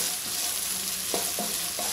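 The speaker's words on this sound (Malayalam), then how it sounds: "ഇതിലേക്ക് സെലറിയും ചേർത്ത് കൊടുക്കാം. ഇത് നന്നായിട്ടൊന്ന് നമുക്ക് വഴറ്റിയെടുക്കാം." Onion and celery sauté in a hot pan with a constant sizzle, broken by a few quick scraping strokes of a spoon stirring the vegetables.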